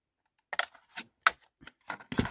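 Scissors snip through paper while crafting with handmade stamps, a few short close cuts spread across a couple of seconds in a quiet room.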